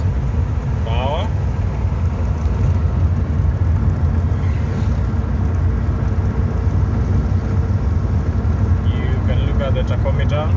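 A 1974 Citroën DS21, not driven for years, cruises at 60 mph with its engine around 2000 rpm, giving a loud, steady drone of engine and road noise that fills the cabin without a break.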